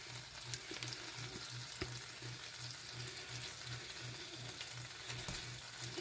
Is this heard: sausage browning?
yes